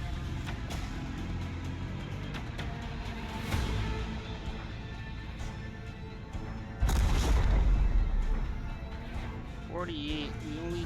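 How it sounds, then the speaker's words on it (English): Macro cannons fire a volley in a Warhammer 40K Rogue Trader space battle, with rumbling booms building to a heavy blast near the end over a dense game soundscape, while someone talks over it. "Macro cannons! Volley! Fire right now!"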